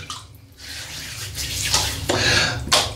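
An Alpha shaving brush is wet under running tap water, a close, steady splashing rush that swells slightly as the water hits the bristles, with no talking.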